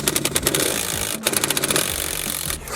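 A wrench works on a bolt in a car's floor while a seat is being removed, giving two loud bursts of rapid, rattling mechanical pulses separated by a brief pause.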